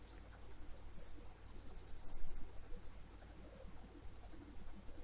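A graphite pencil shades on paper, close and faint, with a continuous soft scratching of rapid back-and-forth strokes over a low steady hum.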